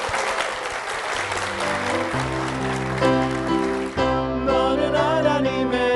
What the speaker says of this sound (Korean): 먼저 목사님과 교회를 위해서 큰 박수 부탁드리겠습니다